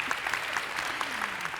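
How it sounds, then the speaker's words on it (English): An audience claps at an onstage conversation event, producing a brief, dense wash of applause heard from a distance at a soft, even level, with no talking over it. "they deserve a clap for sure"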